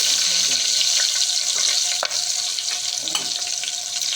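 Cardamom pods and chillies fry in melted butter in a pan, crackling in a steady, loud, close sizzle with small pops throughout.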